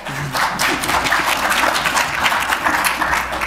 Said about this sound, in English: It's impossible for the record to know which one of the two they were clapping for